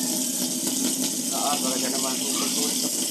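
Water runs steadily from a tap into a container as it is being stored, a continuous rushing gush with a voice speaking faintly over it.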